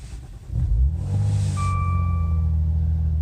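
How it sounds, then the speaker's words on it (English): Maserati Ghibli engine starting with a low-battery-voltage warning showing: a short cranking rumble catches into a steady low idle, with a thin electronic chime tone sounding over it. "So let me go ahead and put my foot on the brake and start."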